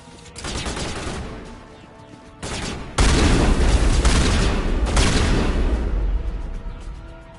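Shotgun blasts in Mass Effect, heavy booming shots in bursts, loud and close, with a long dense barrage of rapid fire and impacts after a short pause, no talking.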